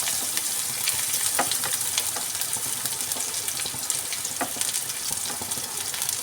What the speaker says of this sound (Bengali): এরপর আমি দিয়ে দিলাম গাজর কুচি।